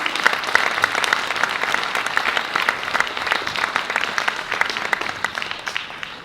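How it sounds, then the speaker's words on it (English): Sustained applause from a large audience at a political candidate adoption event, dense steady clapping lasting several seconds with no voices over it. "Can I have another big round of applause here for Jeane Freeman?"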